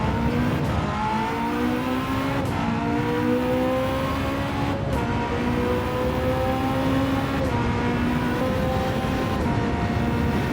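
In Gran Turismo 7, a Porsche race car drives under steady engine drone, its revs rising and falling through repeated gear shifts with no pause in the sound.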